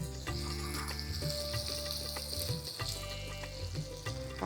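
Garlic and green chilies frying in a pan for restaurant-style crispy corn, a constant crackling sizzle with occasional clinks and stirring knocks, close and steady, no voices.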